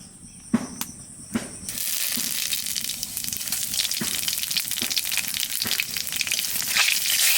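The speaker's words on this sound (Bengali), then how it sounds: "তেলের মধ্যে দিয়ে দেবো রান্ধনি আর শুকনো লঙ্কা কালো জিরে" Radhuni, dried red chillies and nigella seeds dropped into hot oil for a kochu shak dish, a few sharp knocks followed by a sudden bright crackling sizzle that keeps up loudly, with no talking.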